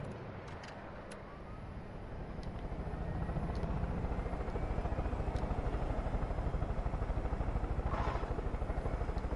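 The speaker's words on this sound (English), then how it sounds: "Okay, I'm gonna fly to the other helicopter." A helicopter flies in the video game Far Cry 5, its steady rotor thump and engine roar holding loud and close and swelling slightly as it goes, with a few faint clicks over the top.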